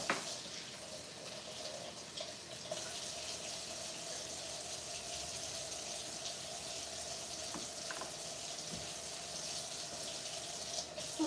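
Hot water running from a kitchen tap into a pot, a steady faint gush that continues for several seconds with small clinks, with no talking.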